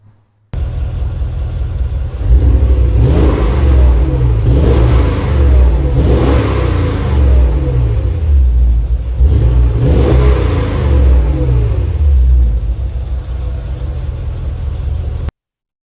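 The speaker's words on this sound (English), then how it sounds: "let's take a listen to the Porsche Cayenne Turbo" A Porsche Cayenne Turbo engine revs up repeatedly, rising and falling in loud, deep roars between idles, heard close by.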